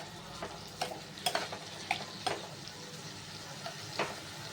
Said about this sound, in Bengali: দিয়ে এটাকে একটু নাড়িয়ে নিই, একটু আঁচটা বাড়িয়ে দিচ্ছি।